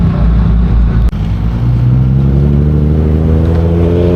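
A Nissan GT-R fitted with an R35 engine accelerates hard at a GTR festival, a loud, close, rising engine roar that climbs steadily through the revs after a brief sharp pop.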